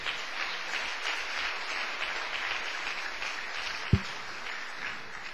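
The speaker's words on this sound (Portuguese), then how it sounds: "Agora você pode dar uma outra salva de palmas para o Senhor." Steady applause from a church congregation, dense and sustained throughout, with one sharp thump near the end.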